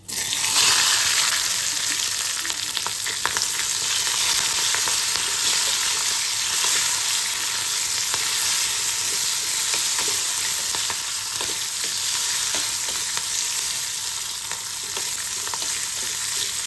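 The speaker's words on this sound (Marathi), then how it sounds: "आता ह्या हिंग घालायचं आहे आपल्याला, आणि ही मिरची घालायची आहे लगेच।" Green chillies and asafoetida frying in hot oil for a tempering, a steady close sizzle and crackle with occasional stirring clicks, no talking.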